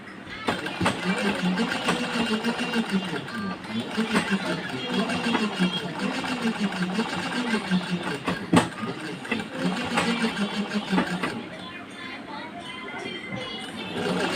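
A sewing machine runs in a steady mechanical whir while stitching a blouse sleeve. A person talks over it almost the whole time, and the machine quiets near the end.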